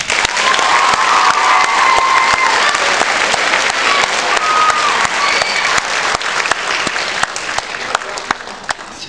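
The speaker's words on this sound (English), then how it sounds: "let us give them a big round of applause." An audience at an 8th-grade graduation ceremony bursts into sustained applause, dense clapping with some cheers and crowd murmur, loud and close before gradually thinning toward the end.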